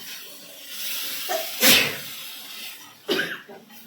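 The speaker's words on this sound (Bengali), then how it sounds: "এত ঝাঁঝ হাঁচি হচ্ছে" Two abrupt sneezes burst out a second or so apart, loud and close, in a kitchen while spices are cooked, over a quiet hissing background.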